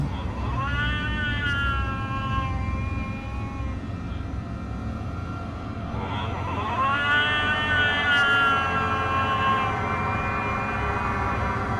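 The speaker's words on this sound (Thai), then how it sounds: "เสียงต่ำๆเย็นเยือกคล้ายแมวแต่ฟังดูยืดยาวแปลกผิดธรรมชา" An eerie, drawn-out, cat-like yowl, a rising and wavering tonal cry heard twice over a constant low rumbling background, with the second wail stronger and longer than the first.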